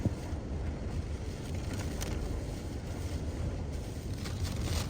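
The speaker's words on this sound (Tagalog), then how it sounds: "ang lakas grabe lakas ng hangin" Strong wind gusts sweep past parked cars in a sheltered spot during a sudden storm with heavy rain at Ras Al Khair, a constant close rushing roar buffeting the microphone without pause.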